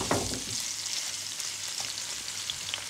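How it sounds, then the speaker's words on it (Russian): An egg mixture for an omelette with pepper, ham and sausages sizzles in a hot oiled frying pan. The frying is a steady, close crackle throughout, with a small spatter near the start. "Всю эту нашу смесь добавляем сюда на сковородочку."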